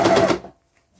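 An overlocker stitching a knit neckband, a short loud run of the motor and needle that cuts off abruptly into near silence.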